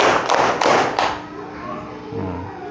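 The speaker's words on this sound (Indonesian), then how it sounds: "Tepuk 1, tepuk 2, tepuk 3" An audience claps hands in a counted pattern of one, two and three claps during a religious talk, giving sharp close bursts that fade into a speaking voice.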